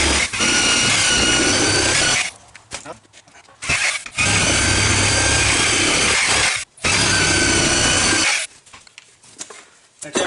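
A saw fitted with a 6 teeth per inch blade cutting in three loud, sustained bursts separated by short pauses, each burst a harsh, rasping whine that stops abruptly.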